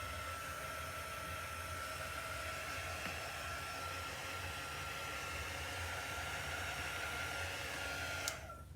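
A heat tool or dryer blows steadily over chalk paste on stenciled home decor, a continuous loud whooshing roar that cuts off abruptly near the end, close up with no talking.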